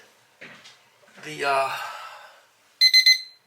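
After a short spoken phrase, a cheap hardwired LED bathroom clock emits three quick, bright electronic beeps in a row as it powers on, close and clear.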